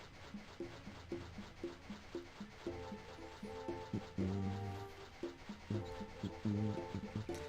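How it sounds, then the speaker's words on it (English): A dog whimpers and whines in repeated short, pitched cries with panting between them, close and fairly quiet, asking for food, with no talking. "My dog, she is staring at me. And she's trying to tell me she wants food."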